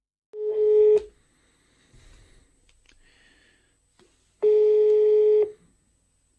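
A telephone ringing tone sounds during a call being placed, two loud steady electronic tones each about a second long separated by quiet, with faint clicks in between and no talking.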